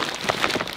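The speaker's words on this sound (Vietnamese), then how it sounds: "Đang có mưa" Steady rain patters on a surface outdoors in Vietnam, a dense continuous hiss with scattered nearer drops, fairly loud and with no voices.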